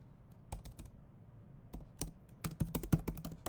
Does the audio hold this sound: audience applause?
no